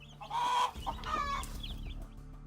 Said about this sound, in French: une poule se retrouve prise au piège par 3 cobras